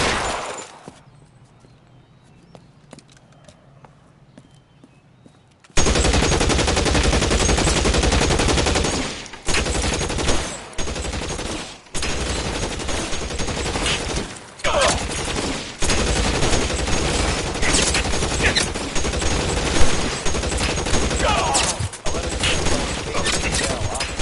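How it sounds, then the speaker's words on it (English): Gunfire in the L.A. Noire video game: after a quiet stretch, loud, sustained bursts of rapid shots break out and continue with brief pauses. "Shots fired in opposite 1452 North Las Palmas"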